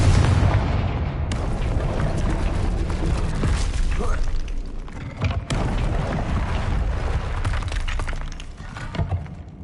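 Confringo fire spell explosions in the video game Hogwarts Legacy, loud booming blasts with crackling debris, set in a dense, continuous wash of battle sound.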